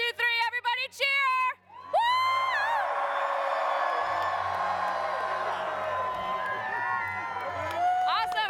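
Large Hall H audience at San Diego Comic-Con cheering for a group photo, a loud sustained roar of cheers and whoops after a brief spoken countdown, filling the room for several seconds.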